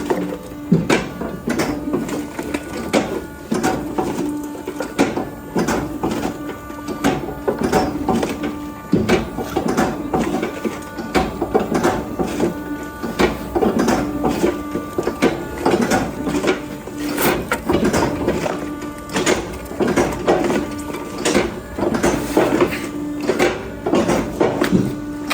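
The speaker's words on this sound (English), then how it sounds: "the machine is operating itself. So while it's operating, we can just keep staging here and keep bagging here" A Kindlet 200 kindling machine works on its own nearby with a continuous rhythmic clattering and knocking of splitting wood, loud and busy throughout with no talk.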